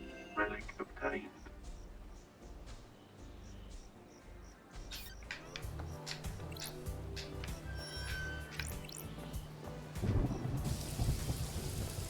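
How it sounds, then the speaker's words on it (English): Rain and thunder in the video game Paradise Killer, a steady wash of rainfall with low rumbling thunder swelling louder toward the end, while a voice talks over it. "Oh, rain in this game."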